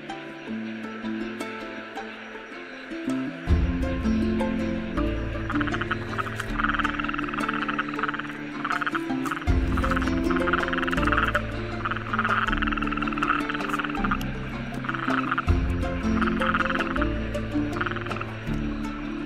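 Toads croaking at a small pond in Costa Rica's dry forest, a dense chorus of deep pulsing calls overlapping in long rhythmic runs, close and steady throughout.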